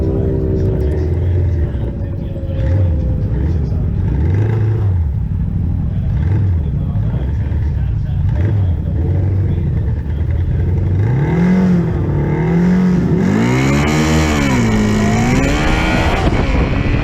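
Aprilia drag-racing motorcycles at Sonoma Raceway roar loudly and steadily, engines revving and climbing in pitch through the gears near the end, with a voice talking over the engine noise.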